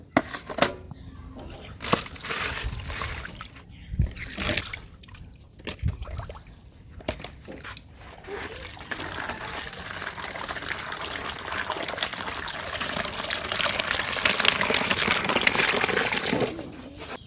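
Water runs while pabda fish are washed by hand, with irregular splashes and drips that give way to a steadier, louder gushing stream toward the end.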